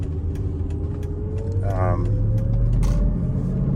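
A steady 2006 Mercedes-Benz SL500 engine hum with a thin high-pitched whine of unidentified source running through it, close by, plus brief mechanical ticks and clicks.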